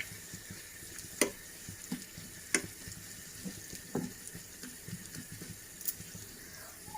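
Soft sizzling and crackling of spices, including fenugreek seeds and red chilies, frying in hot oil for a tempering, with scattered sharp pops and clicks over a low, steady hiss.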